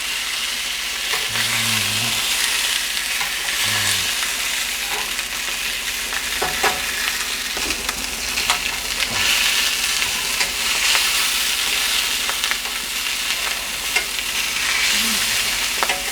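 Sausages for bangers and mash fry in a pan with a constant close sizzle, broken by occasional soft clicks and scrapes as they are turned onto their sides.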